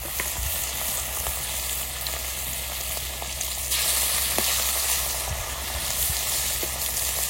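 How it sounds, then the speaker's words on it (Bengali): Fish, a belly cut of catla, frying in hot oil, giving a steady close sizzle with scattered pops and crackles that continues evenly throughout, no voices present. "তেল গরম হয়ে গেছে, এবার মাছটা ভেজে নেবো।"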